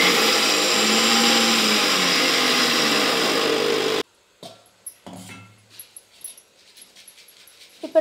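A kitchen mixer grinder grinds pearl millet (kambu) in a loud, steady whir for about four seconds, then cuts off abruptly, leaving faint scattered clatters and handling noises.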